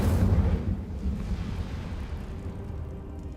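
Incendio fire spell cast in Hogwarts Legacy, a loud whooshing burst of flame right at the start that rumbles on and slowly fades over a few seconds.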